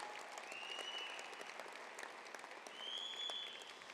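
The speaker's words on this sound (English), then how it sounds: "One more time, a round of applause for our Player of the Year, Caleb Williams." Banquet-hall applause at a college football foundation's national awards dinner, a dense, steady roar of many hands clapping at once, slightly distant, with whistles rising above it twice.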